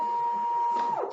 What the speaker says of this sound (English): Press that feed button again,